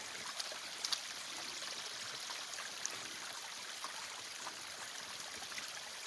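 Water from a spring at Tafelkop runs down from the cliffs in a steady, even hiss of flowing water, continuous and moderately close, with no voices.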